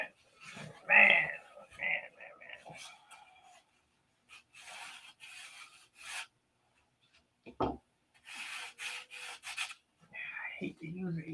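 Rough 80-grit sandpaper rubbing a 1/2A Cobra model airplane wing, heard as intermittent bursts of close, raspy scraping strokes separated by short pauses.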